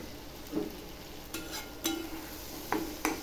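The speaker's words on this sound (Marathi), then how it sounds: "आता ही दोन अंडी टाकते ह्याच्यामध्ये" Two eggs cook in a frying pan with leftover rice, a faint continuous sizzle broken by a handful of brief spatula scrapes and taps spaced unevenly, with no voices.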